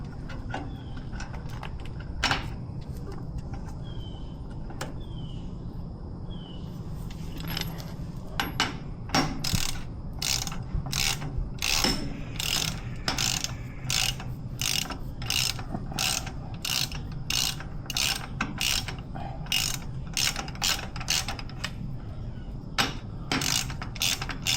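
A hand ratchet tightens a part on a Ford 1900 tractor loader during a hydraulic repair, sounding as rapid bursts of sharp clicking strokes separated by short pauses, close and clear with no talk.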